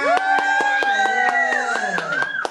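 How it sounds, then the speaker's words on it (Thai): Pupils and their teacher clap at a school New Year gift-exchange draw: quick, steady, rhythmic claps, close and fairly loud, over a sustained tonal voice or music. "ขอเสียงปรบมืออีกครั้งหนึ่งเลยครับ"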